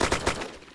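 A quick string of about three gunshots in DayZ, close and loud, the bursts evenly spaced before fading into a short decaying tail.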